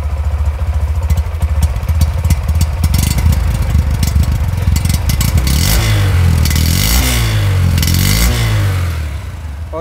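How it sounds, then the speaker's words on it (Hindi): A 2022 Honda Shine 125 BS6 motorcycle engine runs loud and close, idling with a clattering thump, then revving up and down in repeated swells before settling. "और ये बाइक स्टार्ट हो चुकी है, ज़रा एक्सीलरेट करो"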